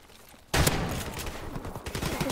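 Rapid gunfire erupts suddenly in a Call of Duty: Modern Warfare Remastered custom match, a dense burst of loud, close automatic shots that continues without a break after a quiet opening moment.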